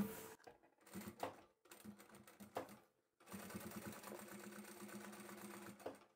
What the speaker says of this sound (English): I'll back stitch and sew all the way to the end.